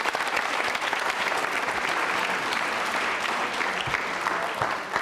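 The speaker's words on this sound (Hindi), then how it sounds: "जोरदार तालियां बजनी चाहिए।" Enthusiastic audience applause at a Jain school quiz show, a thick, sustained roar of many hands clapping at an even level throughout, close and loud.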